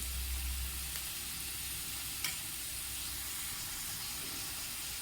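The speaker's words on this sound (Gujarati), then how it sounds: "બે થી 3 મિનિટ માટે ડુંગળીને સાતળવા દઈએ" Onions sauté in a pan with a soft, even sizzle that holds steady from start to finish, marked by a single faint click midway.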